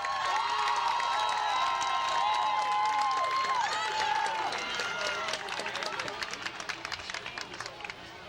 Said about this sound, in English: Wilson's clapping their hands.